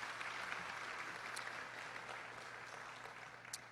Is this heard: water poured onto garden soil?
no